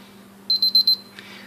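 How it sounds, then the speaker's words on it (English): A Casio DBC-150 data bank watch sounds its one-minute timer alarm: four quick, bright electronic beeps in a row, then a brief pause and one more beep starting, close and clear. "there's our 1 minute timer going off."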